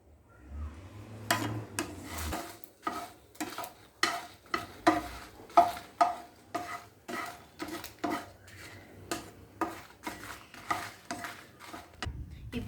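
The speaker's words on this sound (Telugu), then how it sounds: "ఇప్పుడు ఎండుమిర్చి వేస్తున్నాం. కొంచెం ఆయిల్ వేసుకొని వేయించుకోవాలి." Dried red chillies fry in a little oil in a pan, heard as a quiet, close series of rhythmic scraping stir strokes with a faint sizzle underneath.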